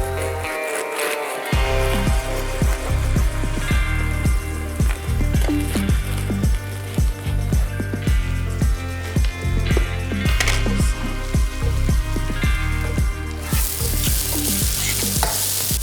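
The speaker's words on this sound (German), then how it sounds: "Deswegen lassen wir sie jetzt einfach noch mal ein paar Minuten in der Pfanne." Vegan protein burger patties fry in a pan, a loud, constant sizzle broken by repeated stirring and scraping clatters of a utensil, with a brief quiet moment near the start and no talk.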